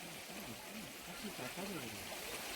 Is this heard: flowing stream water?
yes